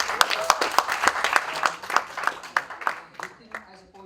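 Audience applause at a college festival, NM College's Umang fest, with a crowd clapping in repeated sharp bursts that gradually thin out toward the end.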